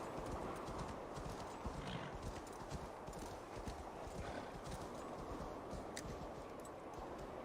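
Horse hooves clip-clopping in a video game, a steady rhythmic trot of hoofbeats, fairly close and continuous, with a faint whinny mixed in.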